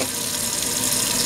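Tap water running over hands at a sink, a steady close broadband rush and splash that holds evenly throughout with no talk.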